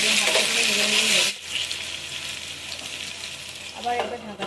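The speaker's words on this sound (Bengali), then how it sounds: "অল্প করে ভেজে হালকা করে ভেজে নিলেই হবে।" Pieces of taro frying in a pan give a loud, close sizzle that cuts off abruptly, then settles into a quieter, steady frying hiss with brief stirring noises, and no one speaks.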